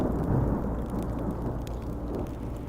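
Rain in the Minecraft Story Mode game falls as a dense, steady hiss with a low rumbling undertone, fairly soft and continuous across a few seconds, with no voices.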